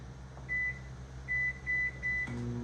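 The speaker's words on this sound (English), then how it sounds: "I'm gonna have to give it 10 seconds in the microwave here real quick." A microwave oven hums steadily while heating teal soft-plastic fishing bait material, with several short, clear electronic beeps and a clunk near the end.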